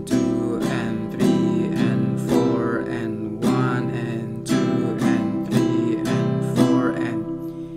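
Rhythmic acoustic guitar strumming in a steady down-up pattern, bright full chords struck in regular accented strokes, close and alone without any voice.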